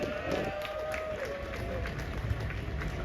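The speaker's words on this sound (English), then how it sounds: "give her a round of applause for that" A crowd at the Phase II Pan Groove pan yard claps steadily during a steel-pan jazz event, the applause soft and somewhat distant. Scattered cheers and a whistle sound over it, with voices mixed in.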